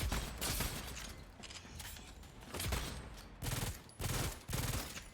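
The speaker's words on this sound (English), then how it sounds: "aim down sights to shoot it with a 5-round burst. Oh, as you can see, burst rifle and shotgun." Burst rifle and shotgun fire in the video game Exoprimal, several rapid gunfire bursts and heavy blasts with mechanical clatter, without voices.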